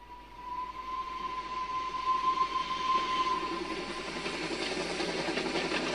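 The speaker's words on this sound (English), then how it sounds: "they take a train to Italy" A train rumbles steadily along the rails, with a sustained high whistle-like tone fading out partway through over a broad, continuous roar.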